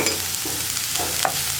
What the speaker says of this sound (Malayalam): ഇനി നമുക്ക് ഈ സവോളയ്ക്ക് ആവശ്യമായിട്ടുള്ള ഉപ്പ് മാത്രം ചേർത്ത് കൊടുക്കാം